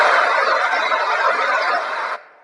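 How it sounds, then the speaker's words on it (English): Forest ambience played through speakers at a Xiaomi product launch event in India, a dense, steady wash of bright rustling noise that cuts off abruptly near the end. "and this is the sound of a forest."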